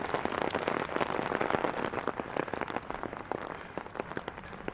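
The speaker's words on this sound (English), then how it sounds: "this is a short walk in the rain" Steady rain during a short walk in Regina, falling on an umbrella and the ground around it. The patter is dense and close, with crisp individual drops tapping throughout and no voice.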